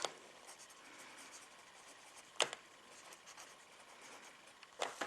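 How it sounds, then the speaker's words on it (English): A thin fineliner pen scratches steadily across a page at close range, writing out words for a Gravity Falls book page, with a soft continuous rubbing texture and a couple of sharper taps or strokes standing out; no talking. "we're going to do some writing now"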